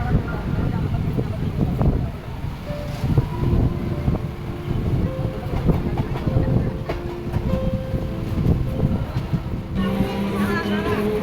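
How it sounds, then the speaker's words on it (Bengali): A train bound for Tarakeswar rumbles along the rails with a continuous low roar, rattling clatter and occasional squeals, heard from on board. "ট্রেন তার নিজের গতি ধরে নিল এবং ছুটতে শুরু করলো"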